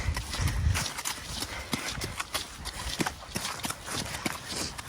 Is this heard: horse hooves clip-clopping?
yes